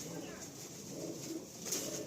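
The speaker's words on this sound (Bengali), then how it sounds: "এক সেট কালাঙ্কা পায়রা" Kalanka pigeons coo softly in a low, steady murmur, faint and close, with a light bird call near the end and no clear talk over them.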